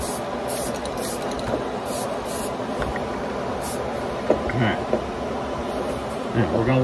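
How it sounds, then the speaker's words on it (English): Aerosol spray can laying a light mist coat of primer on a 1974 AMC Hornet model car, short hissing bursts against a quiet room background. "What we're going to do first is we're going to do a light mist coat."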